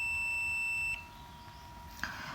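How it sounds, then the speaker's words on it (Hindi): A UNI-T UT203 digital clamp multimeter emits a steady high continuity beep when its probes are shorted, lasting about a second before cutting off, followed by a faint click. "मैंने जैसे इसको शॉर्ट किया इसने बीप करना शुरू कर दिया उसको"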